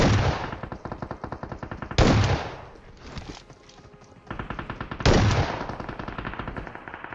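Automatic gunfire in the battle-royale game BGMI comes in rapid, loud bursts that repeat in quick rattling volleys with short pauses between them, close and dominant with no talk.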